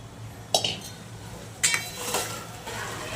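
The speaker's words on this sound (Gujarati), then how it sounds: "બધું મિક્સ કરી લઈશું. હવે આપણે બટાકા જે બાકી હતા ને એ નાખીશું." A spoon scrapes and clinks against a pan while potatoes are mixed into flattened corn with sugar, two sharp metallic knocks followed by softer scraping, close by.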